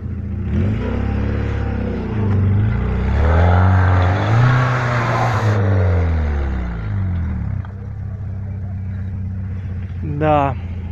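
A UAZ Hunter on an off-road trial track revs hard at full throttle, the engine note climbing and falling in loud, close surges before settling to a rough idle, with a brief sharp rise near the end.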